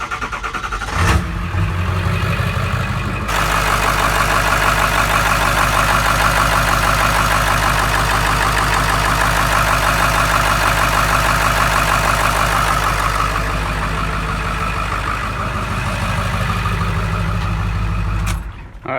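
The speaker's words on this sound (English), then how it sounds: "So go ahead, crank up the truck, which I'll do now." A pickup truck with a 7.3 Powerstroke diesel engine cranks briefly, fires up and settles into a loud, steady clattering diesel idle close by, running alone until it cuts off near the end.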